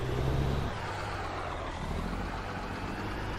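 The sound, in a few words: truck reversing in American Truck Simulator video game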